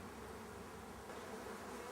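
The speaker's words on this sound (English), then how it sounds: "now I'm going to blow all the bees out of the honey supers" Honeybees swarm around honey supers taken from the hives, their dense, continuous buzzing steady and close with no voices.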